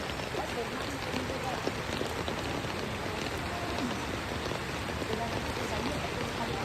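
Steady rain hisses evenly throughout during days of prolonged, flooding rainfall in the Philippines, a dense continuous patter with no pauses.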